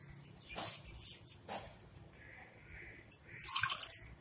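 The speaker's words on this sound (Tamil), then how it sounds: "இப்ப இதுல அரிசி கலந்து தண்ணி ஊத்துறேன்." Water splashes and trickles into a cooking pot of rice and vegetables in a few short bursts, then a louder hissing pour near the end, with faint background noise.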